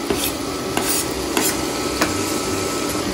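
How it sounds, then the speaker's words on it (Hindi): Onion, sliced mushrooms and green chilli sautéing with chicken in a pan, a steady close sizzle broken by several sharp stirring scrapes, with no talking. "इनको आप सौटे कर लें अच्छी तरह से।"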